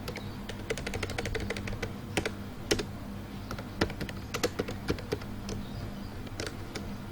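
Rapid typing on a computer keyboard while writing a C program, with quiet, irregular clusters of key clicks and occasional sharper taps over a low background hum.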